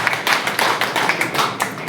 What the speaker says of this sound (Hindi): यार ताली होनी चाहिए, कमाल है।